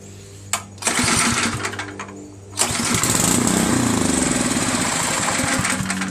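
A Snotek by Ariens 136cc 7.0 LCT snow blower engine, carburetor exposed and primed with a shot of fuel, briefly fires and sputters loudly up close after a short pause, with no talking.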